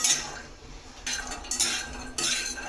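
A metal spoon scrapes and clinks against a pan while cashews and pistachios roast, in short bursts of stirring separated by quieter gaps.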